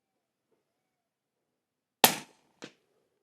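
A Ruger American rifle in 300 Blackout with an MDT field stock fires one sharp, loud shot outdoors, followed moments later by a fainter crack, probably the distant impact on a 100-yard target.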